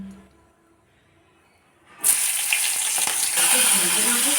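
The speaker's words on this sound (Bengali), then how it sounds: "তো চলো তেলটাতে আগে লঙ্কাটা দিয়ে নিই" Green chilies dropped into hot oil burst into a loud, sustained hissing sizzle after a moment of near silence, with faint bubbling and crackling throughout.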